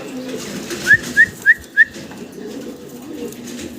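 A pair of tail-marked pigeons with four short clear calls in quick succession over a low background murmur, near and fairly loud.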